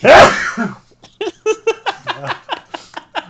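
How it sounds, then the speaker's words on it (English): A loud, close sneeze bursts out, followed by a string of breathy, rhythmic laughs or chuckles. "you gonna sneeze?"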